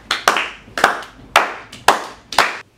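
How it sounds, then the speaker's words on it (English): An audience gives a round of applause in five short, sharp bursts of clapping, each one swelling quickly and then fading, close and fairly loud with brief gaps between them. "Round of applause."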